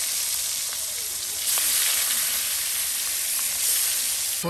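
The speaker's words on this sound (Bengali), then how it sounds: "শুকনো মরিচ কালো জিরা বেজে নেওয়া হচ্ছে" Dried red chillies and black cumin frying in oil, a loud, dense hiss of sizzling that swells midway and stays strong, close to the pan.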